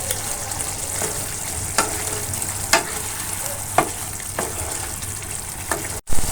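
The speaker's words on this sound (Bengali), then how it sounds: "দিয়ে ভালোভাবে মিশিয়ে নিতে হবে ঝোলের সাথে" Garlic prawns in gravy bubble and sizzle in a pan while a spoon stirs, a continuous close hiss punctuated by sharp scraping strokes every second or so, with no voices.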